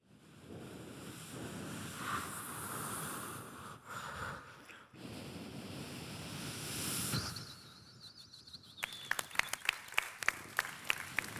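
A performer on a comedy stage show imitates a seashore with his voice, making rising and falling whooshing swells like waves breaking. Scattered audience applause follows near the end.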